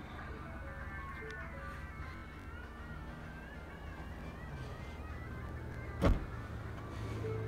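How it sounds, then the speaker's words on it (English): The automatic power liftgate of a 2017 Ford Edge runs with a steady electric motor whine over a low background hum, ending in a single sharp thump as the gate reaches its stop. "Automatic lift gate as well."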